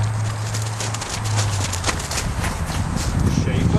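Isabella the horse's hooves clip-clop at a walk beneath a steady hum and wind-like noise, with a voice speaking briefly over the steps.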